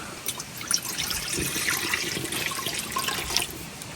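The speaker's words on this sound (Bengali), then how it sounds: "এখন দিয়ে দিতেছি পানি" Water runs and splashes steadily into a cooking pot for boiling lentils, a continuous liquid pour with small trickling and dripping sounds throughout, no voices.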